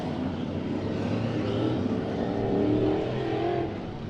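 Race cars in a heat race at Santa Maria Raceway, a continuous engine roar that swells and fades as cars pass at a distance, with no talking.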